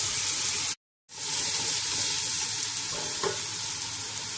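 Onions fry in a pan for vegetable biriyani with a continuous bright sizzle that drops out briefly near the start, then carries on steadily.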